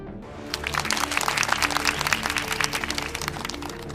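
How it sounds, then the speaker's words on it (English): A crowd breaks into applause after a short pause, a dense crackle of many hands clapping steadily, with a low hum and faint voices underneath. "A round of applause, please."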